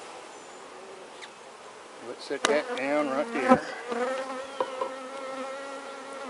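Italian honey bees buzz inside a shipping package during installation into a hive, a dense hum that swells in the middle with rising and falling tones, while a voice speaks briefly nearby.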